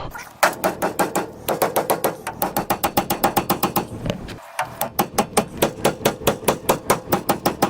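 A 3-pound mallet beats repeatedly on a seized Scout steering box, steady loud metallic whacks in quick rhythm, close up, with a brief pause midway before the pounding resumes.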